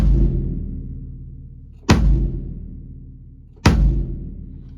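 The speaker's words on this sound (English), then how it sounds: "Kick drum sounds like this." Three deep, open kick drum hits from a Ludwig Questlove Break Beats kit, spaced evenly apart, each booming and ringing out long with no muffling or damping, close and alone.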